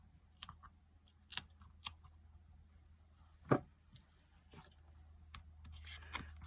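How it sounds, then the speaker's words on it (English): An X-Acto knife scores through card stock in a few sharp, quiet scraping strokes spaced apart, with one stronger cut midway and a faster run of small taps and scratches near the end. "Don't have nails, so I'll use my X-Acto knife."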